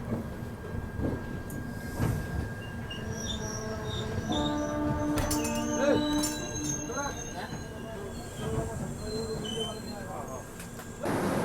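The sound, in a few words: Bharat Gaurav tourist train running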